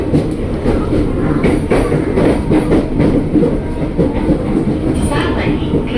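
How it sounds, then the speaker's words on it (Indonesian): A KRL Commuter Line train rumbles steadily along the elevated Manggarai–Jakarta Kota line in Jakarta with a continuous low roar and faint rhythmic clatter, heard from inside the carriage. "kereta akan tiba di stasiun akhir"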